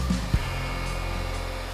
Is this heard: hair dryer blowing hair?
yes